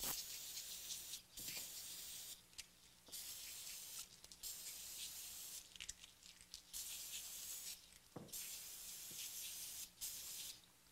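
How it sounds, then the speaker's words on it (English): Brake cleaner or contact cleaner sprayed in repeated hissing bursts onto dirt bike sprocket bolts, each spray lasting one to two seconds with short pauses between, steady and fairly close, no talking. "it's a good idea to clean them off with some brake cleaner or some contact cleaner"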